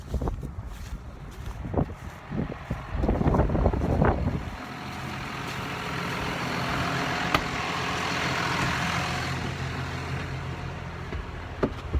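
Cold wind blowing steadily outdoors at a drilling site, a broad, continuous rushing roar buffeting the microphone, with a few brief knocks early on and no speech.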